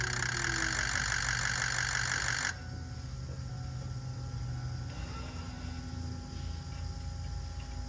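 A car engine runs steadily at idle after a key start, loud and continuous with a brief higher-pitched burst at the outset, alone with no talk.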